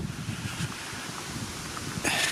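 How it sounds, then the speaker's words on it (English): Strong wind buffets the microphone with a steady, rough roar, growing louder near the end; no voices. "It's very windy."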